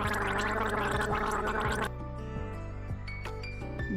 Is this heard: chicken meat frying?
no